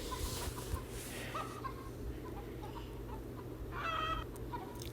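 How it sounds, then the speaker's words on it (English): Chickens on a farm cluck faintly in short, scattered calls over a low steady hum, with one brief burst of clucking near the end. "Go, go, go, chickens."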